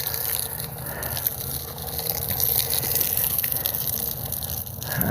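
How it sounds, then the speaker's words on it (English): Water is pushed through a garden hose-end feeder carrying Miracle-Gro fertilizer into a garden bed, a steady, loud rushing gush that runs without a break. "it's actually pushing water in there now"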